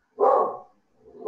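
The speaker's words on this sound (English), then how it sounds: "Sorry about the dog barking." A dog indoors gives two loud, close barks, one full bark followed after a brief pause by the start of another.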